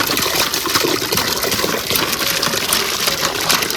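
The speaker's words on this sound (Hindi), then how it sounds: "ये रही इस तीसरे हैंडपंप का पहला पानी। आप देखिए माशाल्लाह से कितना ज़बरदस्त भर के पानी आ रहा है" Water gushes in a strong, steady, close stream from a newly installed hand pump at a freshly drilled bore, giving its first flow as continuous splashing with no pauses or talk.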